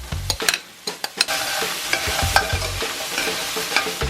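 Cooked vegetables for vegan breakfast wraps stirred and sizzling in a hot pan, with close scraping of a utensil over a steady frying hiss.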